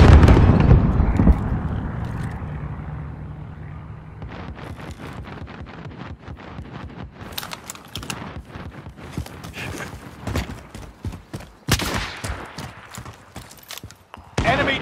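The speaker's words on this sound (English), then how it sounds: "Strike inbound. Precision airstrike missed." A precision airstrike in Call of Duty: Warzone Vanguard lands as a rapid string of explosive cracks and booms. The blasts grow denser and louder toward the end, over steady wind rush, with a voice heard now and then.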